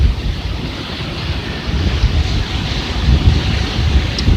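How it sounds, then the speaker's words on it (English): Wind buffeting a microphone at a Florida beach at sunset, a steady loud low rumble with a soft surf-like hiss, continuous with no voices. "Maybe it's got a little more protection from the wind then."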